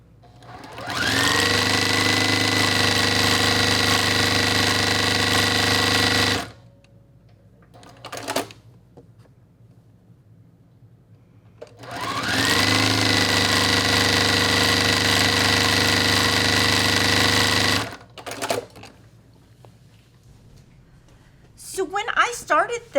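Sewing machine stitching pieces of a quilt block at a short 1.5 stitch length, two long steady runs of fast mechanical whirring about six seconds each, loud and close with quiet pauses and brief talk between.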